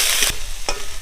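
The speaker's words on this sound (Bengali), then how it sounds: "একটু নাড়াচাড়া করে ভেজে নেব।" Grated ginger, garlic and chopped green chili stir-fry in hot oil, giving a loud sizzle broken by two quick scraping strokes of a spoon across the pan.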